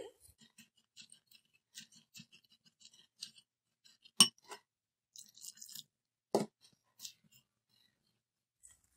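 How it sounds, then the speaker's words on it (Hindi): A cup of milk is mixed into a finely ground powder in a bowl for an eggless chocolate cake, heard as sparse, quiet spoon clinks and scrapes separated by near silence, with two sharper knocks. "अब हम इसमें डालेंगे 1 कप मिल्क का यानी दूध का। अब हम इसको मिक्स करेंगे।"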